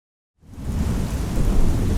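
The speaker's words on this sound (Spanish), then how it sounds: "en el camino comienza a llover" Steady rain with rumbling thunder in a stormy downpour, starting from silence and rising to a dense, continuous roar.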